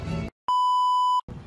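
A car alarm remote sounds in a theme park parking lot, one steady electronic beep lasting under a second, loud and clear between brief bursts of background noise.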